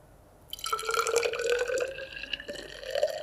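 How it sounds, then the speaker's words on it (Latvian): A second liquid poured into a graduated measuring cylinder in a lab setting, a close, ringing trickle that rises in pitch as the glass fills, with a brief pause and a final burst of dripping. "Un šeit ieliesim otru šķidrumu."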